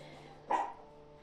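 A single short dog bark sounds in the background, moderately distant and fairly faint against a quiet indoor backdrop with a low steady hum.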